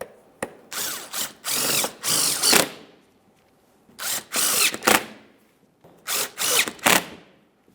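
A power tool drives the mounting bolts on the thermostat housing shield of a 2008–2017 Mitsubishi Lancer 2.4L four-cylinder. It comes as three close, loud bursts of rapid whirring, each with several short pulses and quiet gaps between them.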